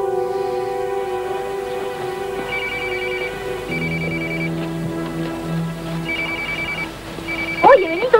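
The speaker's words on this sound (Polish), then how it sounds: "Myślałem, że to pani komórka." A mobile phone rings with a melodic electronic tune of repeated beeping notes over soft background tones, and a voice cuts in near the end.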